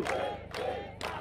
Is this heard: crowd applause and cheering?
yes